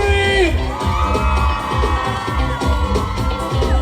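Large concert crowd at a Funfest 2024 live gospel performance screaming, cheering and whooping loudly and continuously, with scattered yells rising above the roar.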